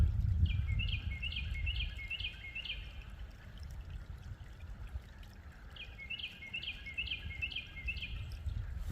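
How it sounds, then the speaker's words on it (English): Two bursts of a bird's quick repeated chirping trill, somewhat distant, over a continuous low outdoor rumble like running water. "Bird over there singing to us somewhere."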